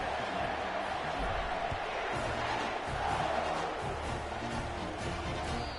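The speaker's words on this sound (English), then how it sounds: "This crowd, full throat, splitting the eardrums and letting them know it's going to be a long day." A football stadium crowd roaring after a touchdown, a dense, sustained wall of cheering that stays loud and even for several seconds with no break.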